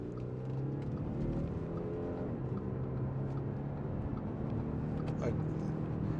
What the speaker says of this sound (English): that sounds pretty awesome for a diesel engine too